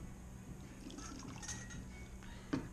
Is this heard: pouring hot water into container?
yes